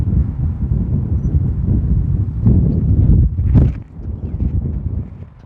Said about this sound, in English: There's a decent headwind there. It's like I say, 8 to 10 mile per hour with an occasional gust.